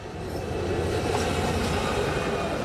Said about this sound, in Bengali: তীব্র গতিতে ছুটে চলা ট্রেন আর সড়ক পথের বাহন মিলেছে একই মোহনায়।